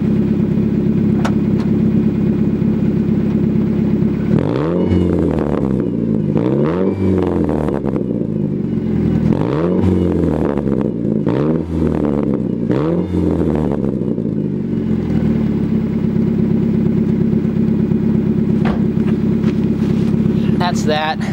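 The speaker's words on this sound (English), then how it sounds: "I'm gonna give you guys a little exhaust note thing here." Car exhaust patched with a soda can revving, several rising and falling engine sweeps in a row over a steady loud idle, close to the microphone.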